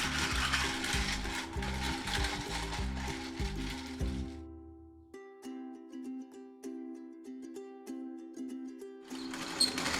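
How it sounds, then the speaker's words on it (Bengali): A hand-cranked manual mixer beats egg yolks in a bowl for a fluffy omelette, giving a steady, close whirring and ratcheting churn that runs continuously, pauses briefly, then resumes with lighter rhythmic clicks. "আমি একটা হ্যান্ড মিক্স নিয়েছি, এটা হাত দিয়ে হাতে মেশিন"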